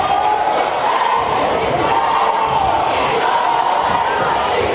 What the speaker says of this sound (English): And that gets the crowd hyped and a 4-point lead, possible 5